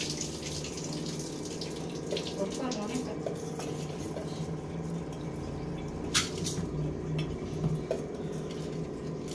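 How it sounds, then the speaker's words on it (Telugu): Water is poured from a glass into a pressure cooker holding washed rice, a soft steady splashing with small drips, fairly quiet in a home kitchen. "చూడండి, 1 గ్లాస్ నీళ్ళు పోసారు."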